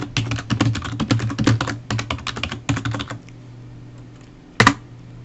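Close, brisk typing on a computer keyboard, a dense patter of key clicks for about three seconds, then a pause and one final sharp keystroke.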